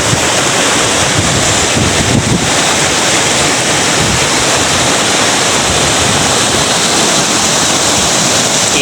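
Flowing river water at Gabas in Buhi, Albay, Bicol, a steady broadband rush with wind buffeting the microphone, continuous and close throughout with no talking.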